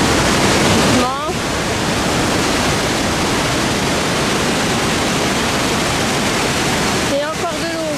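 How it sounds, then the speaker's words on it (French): Loud, steady roar of rushing water at Skocjan, Slovenia, a dense continuous wash filling the whole clip, with brief higher sounds near the start and end. "Et encore de l'eau."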